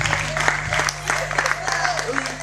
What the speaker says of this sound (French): Ne vous fatiguez pas de m'applaudir.